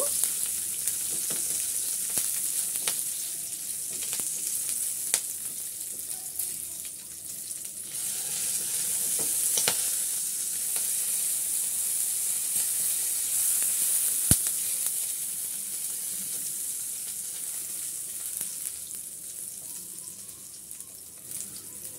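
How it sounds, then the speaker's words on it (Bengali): Green chilies and garlic cloves fry in hot oil with a steady, close hiss and sizzle, dotted with sharp pops and crackles throughout, with no talking. "আমি কাঁচামরিচ আর কয়েকটা রসুনের কোয়া দিয়ে দিলাম। এগুলো আমি একটু ভেজে নেব।"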